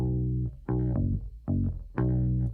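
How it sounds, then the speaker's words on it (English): Sustained electric bass or synth notes with a gritty, clipped distortion, playing a few held phrases separated by short gaps, loud and close. "Didn't realise there was a bit of clip distortion."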